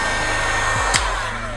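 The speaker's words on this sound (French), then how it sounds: "Avec un sèche-cheveux, ça marche aussi très bien." A hair dryer blows a steady, loud close-up whoosh while heating an LED fork indicator strip for a motorcycle, with brief bumps as the airflow shifts and no speech.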